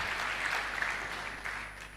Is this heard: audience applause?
yes